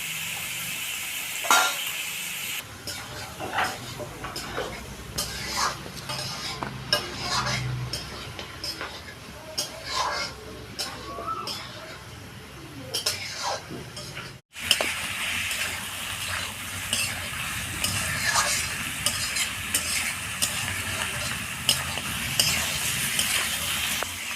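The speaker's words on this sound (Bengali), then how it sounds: "মাংসটাকে হালকা করে ভেজে নিয়েছি" Mutton pieces frying in a pan, a continuous sizzle broken by frequent stirring scrapes and clinks of a utensil, with faint voices at moments.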